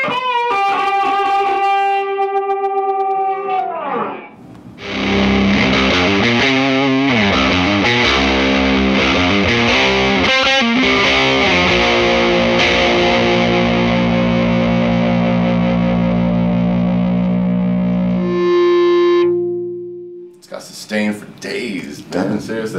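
Distorted electric guitar played through a Supro Black Magick tube amp, with single-note licks, a sustained heavy riff that rings loud and close, then a held note fading before more picking.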